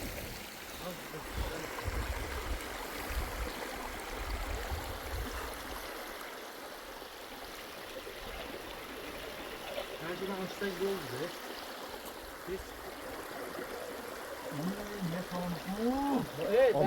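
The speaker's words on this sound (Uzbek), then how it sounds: "Buloq. Mana bu yerdan boshlanyapti suv." Spring water flows and trickles between rocks in the Kurama mountains near Taboshar. The stream is soft and steady close by while someone talks over it.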